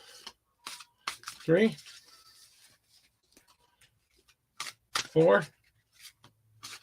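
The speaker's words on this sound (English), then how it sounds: "Let me shuffle 5 times for you." Tarot cards are shuffled in a handful of quick riffling and flicking bursts with pauses between them, close by, while a man counts aloud.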